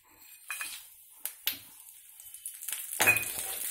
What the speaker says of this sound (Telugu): ఇప్పుడు పోపు వేద్దాం.